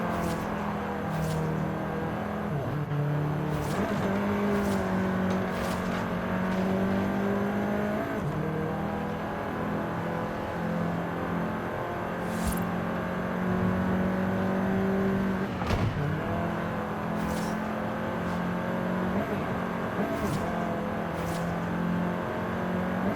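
A Volkswagen Golf R in Forza Horizon 5 drives on with a continuous engine drone that rises and dips through gear changes, with occasional sharp transient clicks and whooshes over the steady hum.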